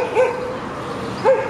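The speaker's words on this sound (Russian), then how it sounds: "Это на моего мужа сейчас накинулись собаки" A pack of dogs rushes at a man outdoors on a sunny, windless day; two short yapping barks about a second apart stand out over a steady background hiss.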